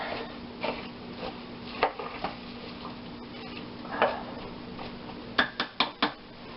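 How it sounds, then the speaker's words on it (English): A spoon stirs potatoes and cauliflower in a pot of Provençal vegetable stew, with scattered soft scrapes and taps, then a quick run of four crisp clinks against the pot near the end. "Give it a good stir."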